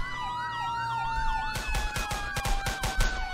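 An ambulance siren in the Roblox game ER:LC wails up and down for a moment. A quick burst of sharp, loud bangs then cuts in over the fading siren tone.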